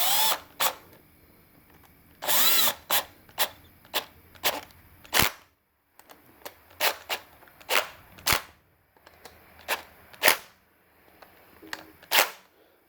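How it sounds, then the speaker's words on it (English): A Milwaukee nut driver on low settings fires off short, sharp bursts one after another, driving screws into a welder plug, close and fairly loud, with brief pauses between runs and no talking. "now I got the settings turned down on this Milwaukee nut driver, so I ain't gonna strip them out"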